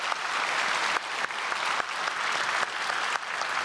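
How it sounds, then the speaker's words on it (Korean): A church congregation at a special dawn service claps loudly together, a dense, sustained roar of applause with a few sharp accents. "우리 크게 박수로 한번 축복하겠습니다."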